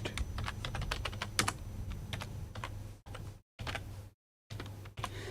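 Rapid keystrokes on a computer keyboard while entering code into a text file, a quick irregular clatter of close key taps with brief pauses and gaps between bursts.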